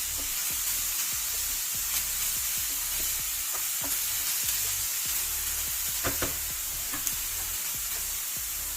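Chopped red peppers frying in a pan with a little oil, a constant soft sizzle broken by scattered pops and a few scraping stirs, heard close and alone.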